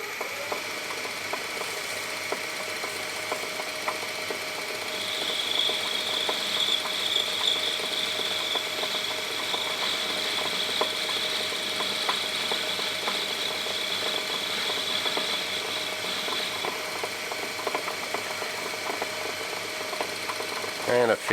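A metal lathe takes a cut with a tangential diamond tool holder, giving a steady mechanical hum and whir with a faint high squeal through the middle of the cut.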